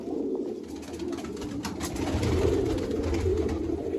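Pigeons kept in a loft coo steadily and close by, a low continuous burbling that swells slightly midway, with no talk over it.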